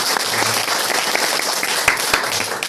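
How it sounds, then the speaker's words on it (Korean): A church congregation applauds in welcome, a continuous, fairly loud patter of many hands clapping together with a few sharper individual claps standing out. "박수로 환영해 주시면 감사하겠습니다"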